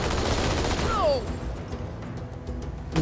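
Rapid plasma weapon fire in Halo 2 peppers a Warthog in a dense, continuous barrage, with a descending whine cutting through the steady loud clatter.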